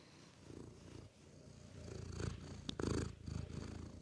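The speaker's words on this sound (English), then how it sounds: "Robin's purring directly into the microphone." Robin the cat purrs right against the microphone, a low, steady, rumbling purr that runs throughout, fairly soft overall and swelling slightly in the second half.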